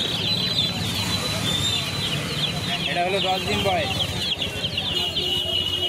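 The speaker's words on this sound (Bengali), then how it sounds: "টার্কি বাচ্চাটা বের করো।" Ten-day-old hybrid turkey chicks at a busy poultry market near Kolkata peep in high, rapid chirps, with other fowl clucking around them under close, steady talk.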